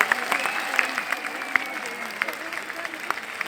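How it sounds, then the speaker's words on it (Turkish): A rally crowd claps on request, a moderate, uneven spread of hand claps with a few sharp louder smacks, lasting a few seconds over a faint background hum. "bir yürekten bir alkış daha istiyorum arkadaşlar"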